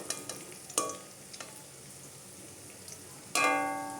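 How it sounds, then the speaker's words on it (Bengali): Cubes of paneer frying in refined oil, with a steady faint sizzle, a few soft clinks and stirring taps, and a louder burst of crackling near the end. "পনিরগুলো একটু ভেজে নেবো, ভেজে নিয়ে উঠিয়ে নেবো।"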